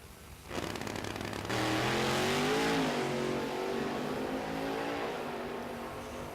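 A Camaro drag race car launching at an NMCA drag racing event at Indy, its engine roaring loud and close as it pulls away hard, a steady, powerful howl that holds for several seconds and slowly eases.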